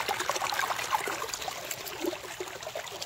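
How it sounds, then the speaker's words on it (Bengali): Heavy rainwater gushes out of a Sundarban forest into the river, a close, continuous trickling and splashing flow with dense watery bursts and no speech. "বৃষ্টির জল এত জোরে বেরোচ্ছে বনের থেকে নদীর স্রোতের মতো"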